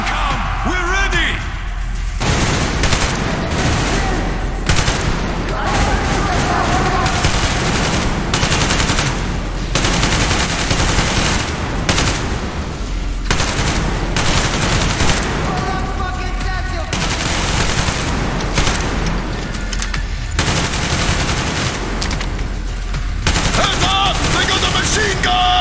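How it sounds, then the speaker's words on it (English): Heavy machine gun fire roars through a battle in Metro Exodus, loud continuous automatic bursts and overlapping gunfire filling the scene, with shouting voices mixed into the chaos. "Machine gun!"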